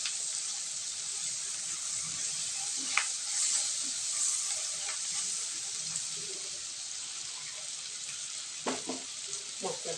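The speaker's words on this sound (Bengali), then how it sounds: "লবণটা দিয়ে পেঁয়াজটা ভাজলে তাড়াতাড়ি নরম হয়ে যাবে।" Onions fry with salt in a pan for a cut-egg curry, giving a steady, fairly quiet sizzle throughout with occasional scrapes and clinks of stirring.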